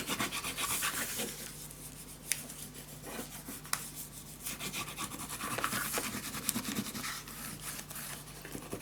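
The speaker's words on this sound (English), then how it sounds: "Burnish it down." Paper pressed down by hand onto a scrapbook travel suitcase mini album makes close, quiet rubbing and scraping strokes in an irregular rhythm, with a few sharp taps, and nobody speaks.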